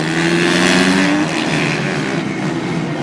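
Supermoto racing motorcycles, including Honda number 7, in an S2-class race at Magny-Cours, their engines a loud continuous roar with a high whine that falls in pitch as a bike passes close by.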